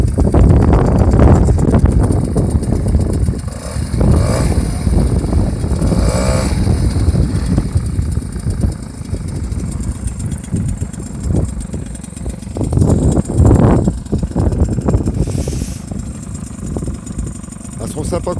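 A Peugeot 103 Clip moped engine idles, then revs a little higher, a close and loud buzzing putter with rises and dips in pitch, while someone talks over it.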